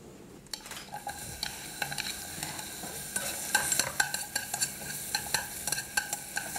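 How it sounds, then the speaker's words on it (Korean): Steady sizzling of onion, carrot and celery sautéing in butter in a pot, with repeated stirring and light scraping clicks throughout, close by and fairly quiet. "야채를 먼저 볶아 놓도록 하겠습니다."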